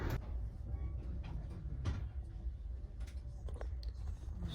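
A freight train stopped alongside, with scattered metallic clanks and knocks over a low rumbling background, moderately distant.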